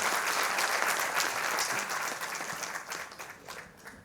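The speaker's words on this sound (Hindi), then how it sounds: "ताली बजा दीजिए जोर से।" Loud, sustained audience applause at a political gathering, dense clapping filling the whole stretch and tapering slightly toward the end, with no voices over it.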